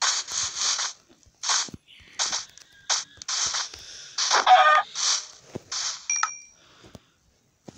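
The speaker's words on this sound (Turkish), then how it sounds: "Tavuk ne kaçtı be?" Chicken clucks from the Minecraft video game come in a string of short, sharp bursts, close and clear, with a few electronic game bleeps scattered between them and no talking.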